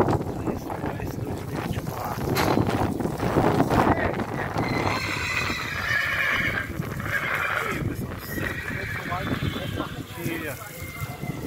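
A horse being bathed at the EXPOECE 2024 livestock show neighs and whinnies amid hoof clip-clops and splashing water, with wind buffeting the microphone and people talking nearby.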